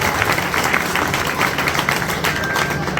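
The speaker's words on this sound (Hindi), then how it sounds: "एक बार सारे साथी नोयावाली के जोरदार तालियां मार के" A crowd at a village rally in Nuhiyanwali claps hard and continuously, a dense close wash of applause with no clear gaps.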